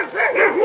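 A single quick dog bark or yip sounds close and clear, with a rising and falling whining pitch and no other sound around it.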